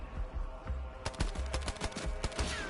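Rapid automatic gunfire from a weapon fired from the hip in a zombies-style shooter game rattles in dense bursts, loud and steady, with a faint layer of game effects underneath.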